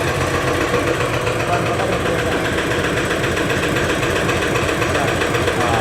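A Hino diesel engine with common rail fuel injection runs on a test simulator, producing a loud, steady idle with a fast ticking rattle throughout.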